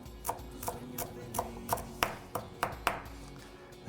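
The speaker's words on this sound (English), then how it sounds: "you want to just give it a little bit of help by chopping it just a bit" Fresh cilantro is chopped on a cutting board with a knife, about a dozen crisp, evenly paced knife strikes close by, with no talking.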